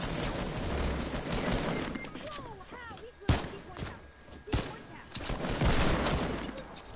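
Video game gunfire erupts in bursts, with two sharp close shots standing out amid rattling fusillades and scattered chatter from players talking over the action.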